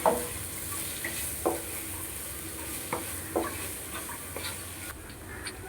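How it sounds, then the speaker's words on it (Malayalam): Roasted spice powder for an Onam sadya pickle of lemon, ginger and mango being stirred in a pan: repeated scraping strokes at an uneven rhythm over a soft, continuous sizzle, with no one talking. "നന്നായിട്ട് പൊടി വറുത്തതിന് ശേഷം എല്ലാം കൂടി ഒത്തിട്ടിളക്കുക"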